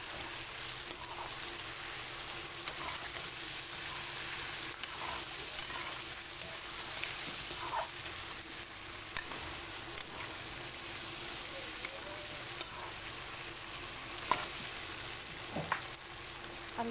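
Duck meat cooking in a pan without spices, giving a steady low sizzle with faint scraping and stirring that runs through the whole stretch, with no talk over it.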